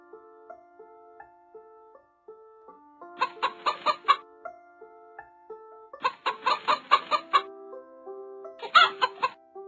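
Three bursts of quick hen clucking break over a soft, plinking melody that plays throughout.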